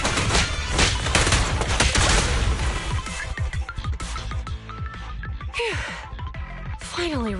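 Gunfire in the video game Zenless Zone Zero, a loud sustained fusillade of rapid shots at the start that thins into scattered impacts, with voices and effects mixed in.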